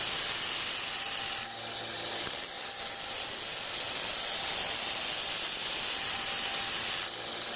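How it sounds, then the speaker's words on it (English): An 80-grit belt sander grinds an angled bevel into a knife blade made from scrap metal, a steady loud abrasive hiss with brief dips as the blade is lifted and pressed back on. "on my belt sander right now. And I'm just going to slowly work it across like that, just at an angle."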